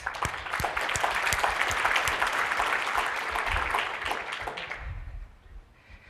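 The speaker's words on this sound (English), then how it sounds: "we would definitely like to thank with a round of applause" A conference audience applauds at opening remarks: crisp, dense clapping from many hands, fairly close and steady for about five seconds before fading out into a few scattered claps.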